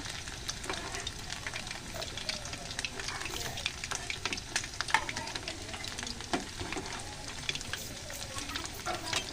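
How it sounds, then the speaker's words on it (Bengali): Meat pakoras deep frying in hot oil give a steady, close crackling sizzle that runs unbroken from start to end, with no voices. "আমার মাংসের যে পাকোড়াগুলো এগুলো একদম মুচমুচে মানে ভাজা হয়ে যাচ্ছে"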